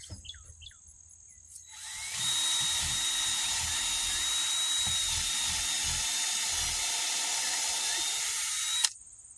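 A 2.5-inch lag screw being driven into a new rim joist under a mobile home with a power driver: a brief rattle of handling, then a steady high-pitched whine running about seven seconds before stopping abruptly.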